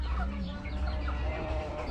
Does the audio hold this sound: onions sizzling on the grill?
no